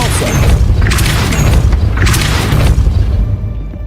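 Depulso spell cast in Hogwarts Legacy, heard as two loud, heavy thumping booms about a second apart over a rumbling low background, fading toward the end.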